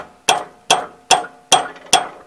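Five sharp wooden knocks at a steady rhythm, close and loud, as a wood block is bumped against a lawn mower deck to tighten the blade.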